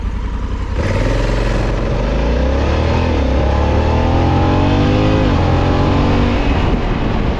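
A Honda Africa Twin Adventure Sports 2024 motorcycle engine revs up smoothly, its pitch climbing steadily as it accelerates, loud and close throughout.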